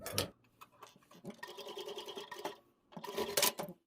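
A sewing machine stitches a pocket onto a jumper, running in short quiet bursts of rapid mechanical ticking with a pause between runs, close and faint.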